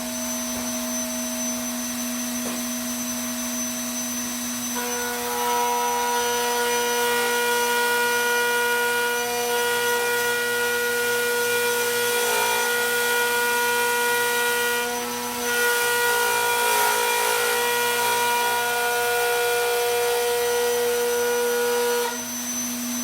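A router table cutting a quarter-inch groove in wood, a loud, steady high whine of the spinning bit that deepens slightly as the workpiece feeds through, continuous for over twenty seconds with no speech.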